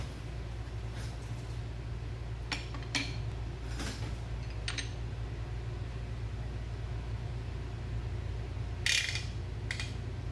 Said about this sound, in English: So let's put this in the spring compressor.